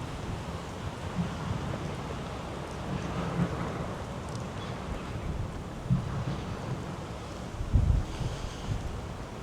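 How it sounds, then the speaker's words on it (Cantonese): Strong wind blows along a riverside promenade in Guangzhou, making a continuous low rumble and buffeting against the microphone, with gust surges and no talking. "哇！ 呢度其實都幾大風㗎。"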